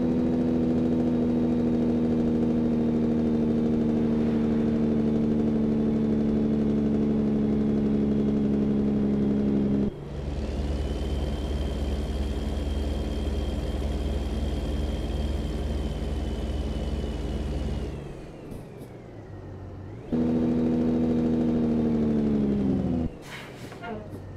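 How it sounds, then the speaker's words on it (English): A heavy-haul truck engine in American Truck Simulator drones steadily, then shifts into a harsher, rumbling engine-brake roar for several seconds before the tone drops and the engine settles back into a smooth, continuous hum. "I'm going to turn the engine brake on."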